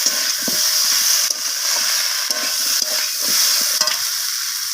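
Vegetables stir-fried with ginger and garlic paste for a fish-head chorchori with kohlrabi, radish, beans, eggplant and potato, a loud hissing sizzle with repeated stirring scrapes, close and without talk.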